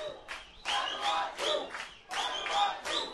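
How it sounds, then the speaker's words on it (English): Rugby league crowd at a Vanuatu versus Greece match raises rhythmic chants in loud, repeated surges separated by brief dips, the massed voices sounding broad and distant. "You can hear the crowd getting involved."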